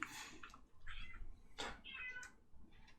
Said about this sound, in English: Meow, cat, calm down.